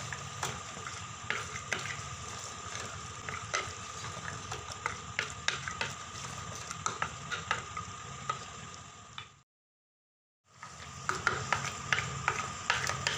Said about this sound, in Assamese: এতিয়া গোটেইখিনি ভালদৰে মিহলাই ল'ম।